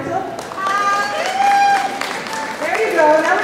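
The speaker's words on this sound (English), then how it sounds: "give them a howdy or a round of applause" Audience at a county senior citizens' celebration applauds and cheers for committee members, a steady burst of clapping mixed with whoops and voices throughout.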